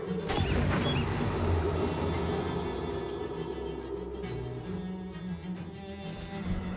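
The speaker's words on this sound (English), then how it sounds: "Oh, it's gonna explode." An explosion in the video game Shadows over Loathing opens with a sharp, booming burst, followed by a dense rumbling tail that fades gradually over several seconds.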